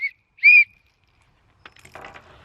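Two short, shrill blasts from a small emergency whistle out of a hiking survival kit, a brief toot then a longer one, followed by faint rustling.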